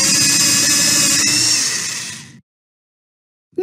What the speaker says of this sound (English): First, drill a hole in the tree.